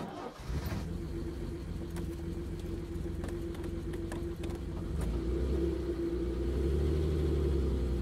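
A 1963 Jaguar E-Type cruising, its engine giving a steady low rumble under a faint whine, swelling slightly louder toward the end, with no talk.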